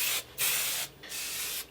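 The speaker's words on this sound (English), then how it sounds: "So I'm gonna use a little bit of this IGK Good Behavior Spirulina Protein Smoothing Spray" IGK Good Behavior Spirulina Protein Smoothing Spray mists onto hair in three short close hissing bursts with brief gaps between them.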